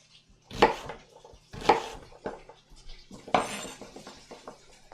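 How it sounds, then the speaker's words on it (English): A knife chopping food on a board while cooking a chicken and sweet potato stir fry, with three or four distinct, fairly close thuds spaced about a second apart and soft kitchen clatter between them. "And I'm just gonna do a chop here."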